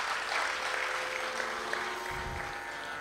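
An audience claps steadily for a Hindustani classical musician, a dense, even wash of applause that holds for the whole stretch with a low thump near the end.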